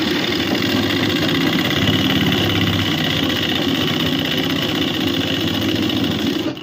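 A sewing machine stitches the side seams of a ladies suit with a loud, close, unbroken motor hum and rapid mechanical chatter that runs steadily throughout.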